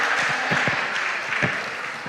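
Audience applause at a school quiz competition between junior high schools, a short, dense, steady burst of clapping, close and loud throughout.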